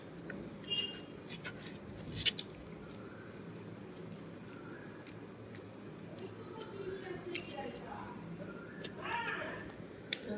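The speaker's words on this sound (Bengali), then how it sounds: "ওই যে বিড়ালটা আমার চিল্লাচ্ছে" A domestic cat meows a few times at a modest distance. The calls sit under a steady background hum, with occasional light clicks and some talk nearby.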